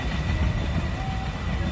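Sriwijaya Utama passenger train crossing a bridge, a steady loud low rumble of rolling wagons and engine with no break across the short stretch.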